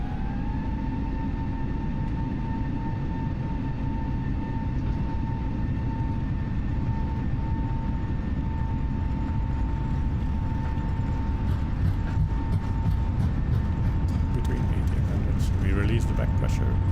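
An airliner on its takeoff roll between Ajaccio and Barcelona spools its engines up to flex takeoff thrust, making a loud, steady roar with a sustained whine that builds toward the end.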